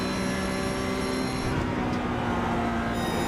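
Porsche Cup race car lapping Suzuka, its engine a steady, loud, continuous drone with a slight pitch shift partway through, heard alone without talk.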